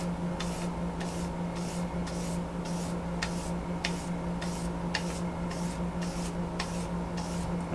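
A knife blade slowly rocked across a sharpening stone to hit the convex edge gives evenly spaced scraping strokes, about two per second, steady and close, over a low constant hum.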